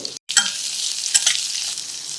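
Hot oil crackles and hisses loudly after a brief silence as chopped chillies, red and green capsicum and white sesame seeds fry, with stirring noises mixed into the steady frying.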